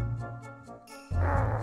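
A dog in the game Mega Man Legends whimpers and yelps in a short repeating pattern, several brief high cries over a steady game background, ending in a louder burst.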